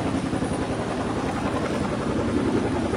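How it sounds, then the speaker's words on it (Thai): A helicopter passes overhead during a flood rescue mission in Mae Sai, Chiang Rai, its rotor roar loud, dense and sustained throughout with no voices. "ด้านบนเรานะก็จะมีเฮลิคอปเตอร์นะครับอากาศยาน"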